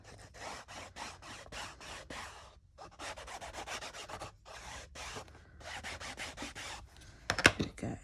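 An ink pad is rubbed along the edges of a paper card, making quiet, close, rhythmic scratchy strokes in quick bursts with short pauses, ending with a brief sharper scrape.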